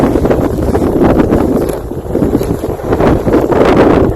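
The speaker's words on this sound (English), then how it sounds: "Oh, it was just the wind." Strong wind blowing across a frozen lake during a blizzard, a loud, constant roaring gust buffeting the microphone close up throughout.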